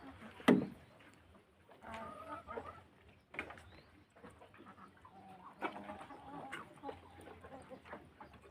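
A chicken being watched for signs of illness clucks repeatedly at close range, with short irregular bursts and one sharper squawk near the start, over quiet farm ambience.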